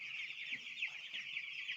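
Chickens on a poultry farm cluck and chirp steadily inside a lit brooding shed, a dense continuous flock chatter with no voices over it.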